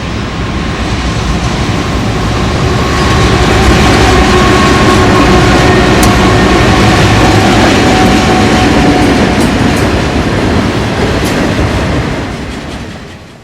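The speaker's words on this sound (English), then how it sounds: "many units were dispatched, pushing westbound trains up over the hill to Washington Summit" A Conrail freight train with pushing helper units climbs a steep grade in the Berkshire Hills. A loud, sustained roar of engines and rolling cars lasts the whole time, with faint rhythmic wheel clatter and occasional metallic squeals close by.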